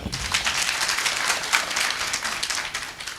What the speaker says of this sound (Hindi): सभी के लिए जोरदार ताली हो जाए